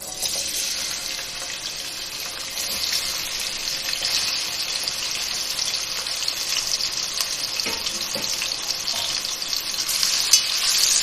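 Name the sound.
onions frying in hot oil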